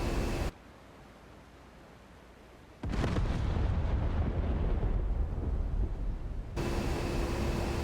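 Bomb explosion from a direct hit on a tank in the A-10C flight simulator, a sudden deep roaring blast that rises out of quieter cockpit hum and rumbles on for several seconds, loud and without talk.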